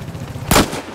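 A single loud gunshot blast from the video game Battlefield Hardline cracks sharply over faint in-game background noise.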